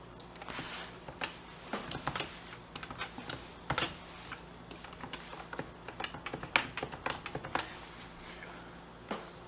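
Irregular clicking of a computer keyboard at close range, with quick bursts of keystrokes and short pauses between them, fairly quiet and with no one talking over it.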